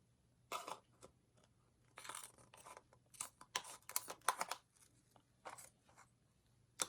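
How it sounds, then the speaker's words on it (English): Small scissors snip repeatedly in short, irregular bursts of crisp cutting, close by, with brief pauses between runs of snips. "Let's try some smaller scissors on that."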